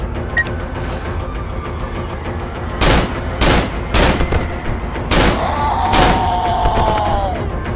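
Gunfire in the horror video game Cry of Fear: several sharp, loud shots spaced over a few seconds, with a low droning background between them.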